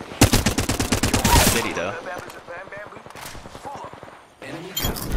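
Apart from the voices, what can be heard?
Flatline rifle single fire in Apex Legends video game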